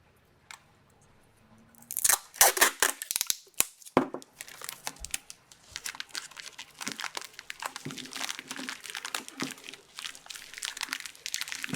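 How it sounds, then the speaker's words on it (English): Tape is pulled and wrapped around a handmade monster puppet, a burst of sharp ripping and crackling followed by a long stretch of steady crinkly rustling and sticky peeling close by. "I just tape that around like that"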